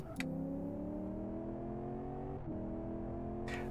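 A TSV8 car with paddle shift in the racing game Live For Speed, its engine revving with a smooth rising tone, dipping at a gear change and climbing again, heard alone without talk.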